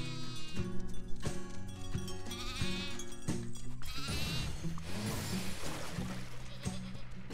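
Alpine goats in the farming game Farm Together bleat in short repeated calls over a buzzing insect-like drone and a light melodic background, fairly close and clear, with no talk.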